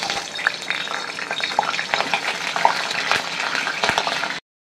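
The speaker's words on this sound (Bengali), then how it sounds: "এবার এই তেলেই আলুগুলো ভেজে নেবো।" Potatoes sizzle and crackle steadily in hot oil in a pan, close and loud, with occasional stirring scrapes, then abruptly cut to silence at the end.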